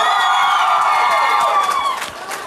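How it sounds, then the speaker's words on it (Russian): Studio audience at a karaoke TV show bursts into loud applause and cheering, a dense wash of clapping and whoops that holds strong then eases slightly toward the end. "И ваши аплодисменты, Баястан!"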